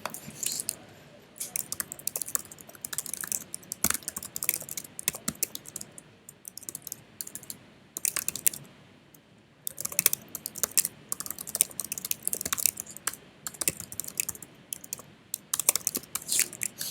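Rapid, irregular clicking of keys on a computer keyboard, close and fairly loud, running in bursts with a few brief pauses and no voices.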